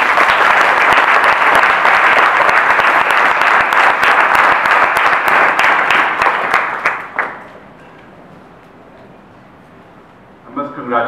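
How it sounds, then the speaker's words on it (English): Loud, sustained audience applause fills a Sri Sathya Sai devotional singing gathering in New Delhi, then quickly dies away to a quiet hall, with a brief stir of sound at the very end. "I think one more round of clap for this."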